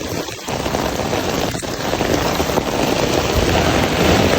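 Heavy rain in Japan pours down steadily and loudly, a dense continuous hiss of drops hitting surfaces close by, with no voices.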